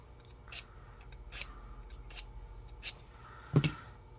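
A knife is drawn through a handheld sharpener in a few quiet, separate rasping strokes, ending with a sharper scrape.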